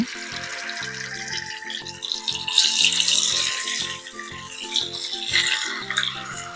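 Indian mackerel rubbed with chili paste frying in hot canola-coconut oil, a steady loud sizzle with bright crackle surging and easing, over a backdrop of soft tonal music.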